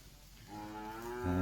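A single cow lows from a dambo pasture where a herd of late-calving cattle grazes among legumes and torpedo grass, a short, rising moo that swells in the final moment.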